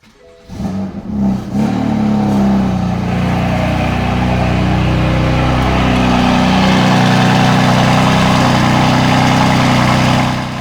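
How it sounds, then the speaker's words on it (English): A BMW M3 engine cold-starts with a brief crank and catch, then settles into a loud, steady, close idle with a deep low rumble that holds for about nine seconds, with no talking. "Now this time, it really is the last cold start."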